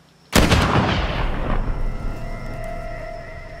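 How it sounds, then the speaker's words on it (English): A single loud gunshot in the horror video game The Quarry bursts out sharply and rings into a long, rumbling echo that slowly fades. "Did she shoot at us?"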